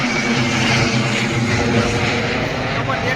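A helicopter flies nearby with a loud, continuous engine and rotor drone that holds steady throughout, with no pauses or other distinct sounds.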